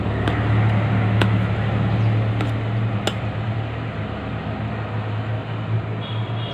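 Steady traffic rumble from vehicles passing outside, a continuous low hum with faint passing swells behind a home kitchen where ghee is being made from malai.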